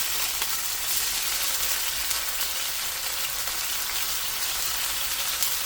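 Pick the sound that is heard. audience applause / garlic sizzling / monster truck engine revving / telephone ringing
garlic sizzling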